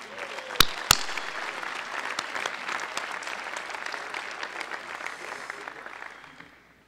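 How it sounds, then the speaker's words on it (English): An awards banquet audience applauds the MC, a steady wash of many hands clapping that holds evenly for several seconds, with a couple of sharp knocks near the start, before thinning out and fading at the end. "How about a round of applause for Ryan McGee?"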